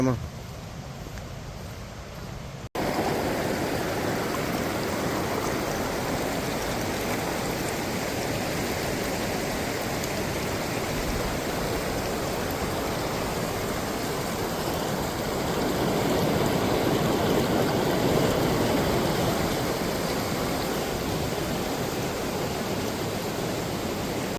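A river stream flows beside a mountain trail on a trek, a steady broadband rush of water that runs continuously and fairly loud after a brief quiet start, swelling slightly later on.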